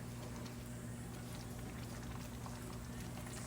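Buro, a fermented rice mixture from Pampanga, simmering in a pot with a steady, continuous bubbling and hiss, close and fairly quiet, with a low hum underneath and no talking.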